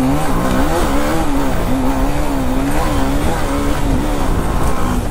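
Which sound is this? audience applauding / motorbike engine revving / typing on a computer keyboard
motorbike engine revving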